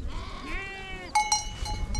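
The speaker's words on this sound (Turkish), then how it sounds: "O kuzuyu götürdü değil mi Hasan?" Lamb bleating near a large village cooking cauldron at a rural gathering, a few short wavering bleats over outdoor background noise.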